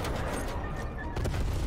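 Grenade blast and gunfire from Call of Duty on the Nuketown map, a dense continuous volley of shots with a heavier burst near the end, loud and unbroken.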